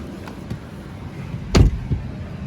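Power window motor on a car fitted with Hansshow soft-close doors and self-presenting handles, a short whirring rise ending in a soft thud as the glass seats, close by in a quiet setting.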